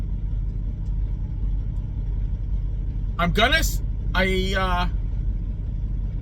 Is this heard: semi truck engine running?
yes